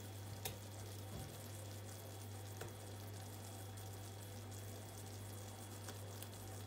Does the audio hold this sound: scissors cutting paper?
no